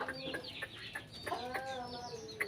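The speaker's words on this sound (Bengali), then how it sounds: "এই দেখতে পাচ্ছেন আমার এই ছোট্ট খামারটির মুরগিগুলি। এই দেখুন খাবার দেওয়া হয়েছে, এখন দেখেন কিভাবে খাচ্ছে।" Chickens on a small backyard farm cluck as they peck at freshly scattered natural feed, several soft overlapping clucks and murmurs repeating irregularly, fairly faint and close.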